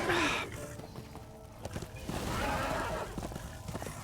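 A horse in the Darksiders 2 video game clip-clops along, rhythmic hoofbeats over steady game ambience, with a brief whinny near the start.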